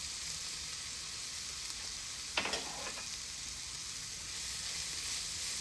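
Ground turmeric, cumin, coriander and cayenne sizzling quietly in a pan while being stirred, a steady soft hiss with a brief scraping stir midway.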